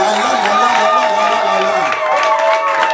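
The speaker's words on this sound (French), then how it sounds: "Donnez-moi des acclamations." A crowd of wedding guests cheers and calls out loudly and continuously at a Franco-Congolese wedding ceremony just after the couple is pronounced husband and wife, with voices blending into a sustained, tonal roar.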